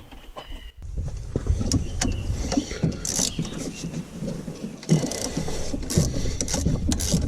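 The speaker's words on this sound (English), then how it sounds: "This is a 13mm bolt on the back, and it is a little bit tight, which is why I'm using a 1/4" drive ratchet to get to it" A 1/4-inch drive ratchet works a tight 13mm bolt on the back of a Gen V supercharger, giving a run of close, busy mechanical clicks and scrapes with sharper metallic bursts throughout, no talking.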